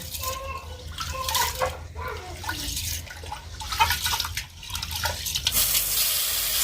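Rice is washed under running water for khichuri in a home kitchen, with splashing, dripping and sloshing close by that rises and falls irregularly.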